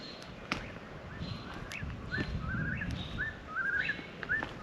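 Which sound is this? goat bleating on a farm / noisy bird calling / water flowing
noisy bird calling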